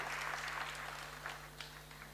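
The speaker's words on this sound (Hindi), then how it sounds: "तालियां बजा सकते हैं आप लोग इनके लिए" An audience claps together at a spiritual gathering honouring invited guests, a steady broadband patter that holds for about two seconds and then thins out slightly, heard over a constant low electrical hum.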